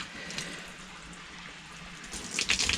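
Water poured over the leaves of a freshly repotted Hoya plant, a steady soft splash that builds into a louder gush at the end, close and alone.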